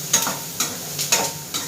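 Spices with turmeric are stirred and fried in a pan: a soft continuous sizzle with about five rhythmic scraping strokes of a spoon, close up and without talk.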